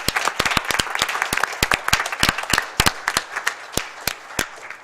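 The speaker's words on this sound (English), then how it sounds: "fellow members will give Commissioner White a big applause" Board members applauding Commissioner White at a Rochester Board of Education business meeting: a steady round of many hands clapping, dense and fairly loud, thinning slightly toward the end.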